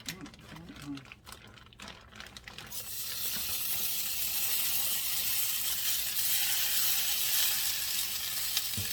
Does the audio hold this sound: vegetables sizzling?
yes